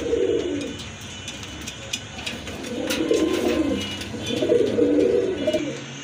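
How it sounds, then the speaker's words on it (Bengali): A pair of Red Indigo Rajgolla pigeons cooing close by, with three rounded, throaty bursts of cooing rising and falling over a few seconds, alongside faint chirps and a soft room background. "আরেক জোড়া কবুতর রেড ইন্ডিগো কালারের ভিতরে"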